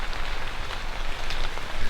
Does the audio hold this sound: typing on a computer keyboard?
no